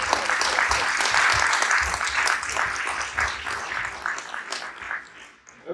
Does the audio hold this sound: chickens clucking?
no